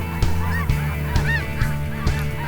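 Snow geese honk overhead in a dense, continuous chorus of many overlapping calls, loud and close, with no talking.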